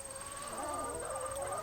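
Chickens in a backyard garden flock cluck steadily at moderate distance, a continuous low murmur of fowl calls with a faint steady tone above it and no talking.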